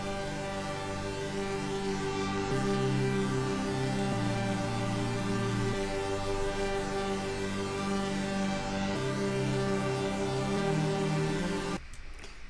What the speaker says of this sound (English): I initially started off with this Juno Diva preset.